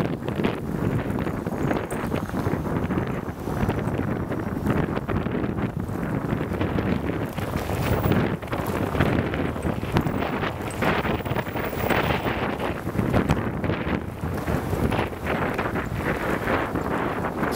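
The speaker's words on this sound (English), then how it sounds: "Here's where the wind starts." Blizzard wind in a Montreal snowstorm of 2013 roars without pause, loud and close, buffeting the microphone in a dense, steady rumble mixed with gusty hiss.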